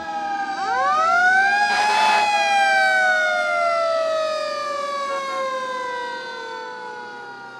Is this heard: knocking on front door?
no